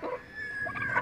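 An Aseel rooster gives a single short, close call with a brief rising cry near the end.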